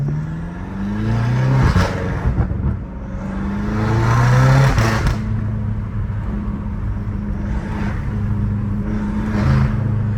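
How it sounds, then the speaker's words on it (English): A BMW M5 Competition revs and idles up close, turbos audibly whooshing as they suck in and blow out, with swells of engine roar rising and falling over a low rumble. "you can basically hear it like it's sucking in and blowing out"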